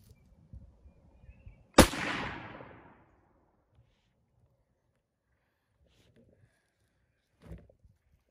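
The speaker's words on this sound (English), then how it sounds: "I'm gonna do my test firing again" A single loud rifle shot from an 1895 Chilean Mauser chambered in 7.62x51, a sharp crack with a ringing decay outdoors, followed by quiet handling noises and a faint thump later.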